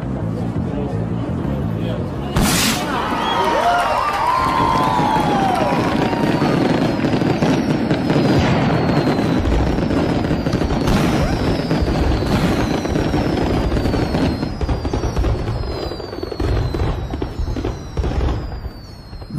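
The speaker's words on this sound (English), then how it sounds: "The signal sounds for the fireworks to start." Fireworks show launched before a Las Vegas building demolition: repeated bangs, crackles and whistling rising shells burst continuously for almost twenty seconds, loud and nearby, over a murmuring crowd and distant voices.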